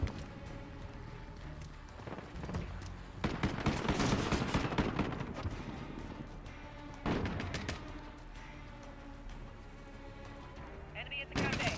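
AK rifle fire in a video game comes as sharp bursts and single cracks scattered throughout, loud against a background of talk and game sounds.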